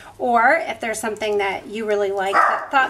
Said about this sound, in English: so excuse the barking